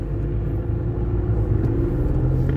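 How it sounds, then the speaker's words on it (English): A BMW M4 produces a deep, rumbling engine and exhaust drone, loud and continuous with small surges, heard up close without speech. "This M4 is ridiculous. I've never heard anything like it"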